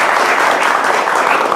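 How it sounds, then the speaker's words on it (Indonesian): Audience applause fills a TV studio, a dense, steady burst of clapping at close range with no talk over it. "Kami hadirin tepuk tangannya buat Ustadz Dery Sulaiman."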